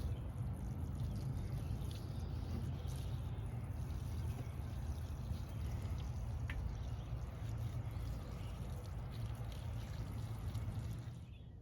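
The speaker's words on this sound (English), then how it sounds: "Finally, we'll give them a drink of water." Water poured onto potted magnolia seedlings makes a steady, soft trickling hiss that runs evenly throughout, then eases off at the very end.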